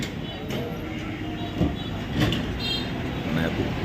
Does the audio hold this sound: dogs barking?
no